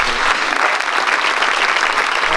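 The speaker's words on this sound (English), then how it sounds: "can you all please join me in giving Linda a massive round of applause" Loud, dense round of applause from an audience at a community celebration event, steady clapping filling the whole stretch without a break.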